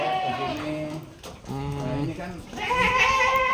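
Boer goats on a farm bleat several times in quick succession, each call a wavering, nasal cry, loud and close.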